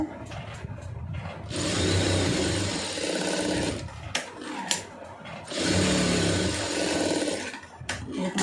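Close sewing machine stitching a blouse, running in two steady whirring bursts of several seconds each, with brief handling clicks and pauses between them and no talking.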